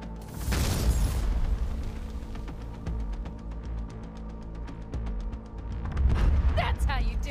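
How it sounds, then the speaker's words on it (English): A rocket launcher blast strikes a flying vehicle in Cyberpunk, with a loud boom up front followed by a rumbling, crackling low roar and a further burst near the end, under game noise. "She's rocket launching them."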